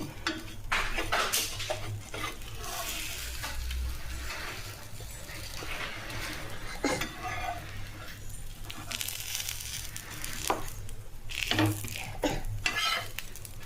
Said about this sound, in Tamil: இது கொஞ்சம் லைட்டாக அரை வேக்காடு வந்ததையுமே இந்த மாதிரி திருப்பிக்கணும்.